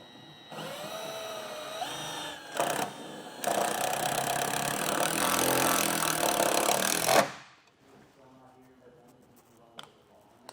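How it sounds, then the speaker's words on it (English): A power drill drives self-tapping screws into a 2017 Ram 1500 truck bed, whirring in a sustained burst of several seconds, preceded by shorter bursts, then stops, leaving quiet room sound. "we can start drilling our self-tapping screws in"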